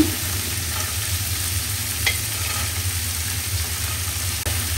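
Cut potatoes go into a hot frying pan and sizzle steadily at moderate level, with a low background hum and a couple of brief utensil knocks, no talking.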